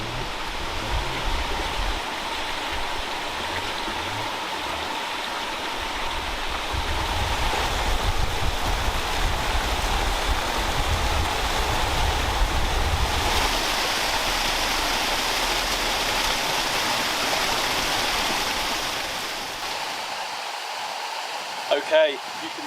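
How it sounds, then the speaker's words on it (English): River water rushing over a small dam in central Portugal, a steady broadband roar of flowing water that stays close and even throughout, swelling slightly midway and dropping away at the end. "where they've dammed the river up here"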